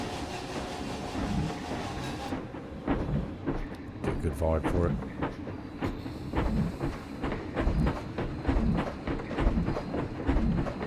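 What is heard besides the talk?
train ride in video game Planet Coaster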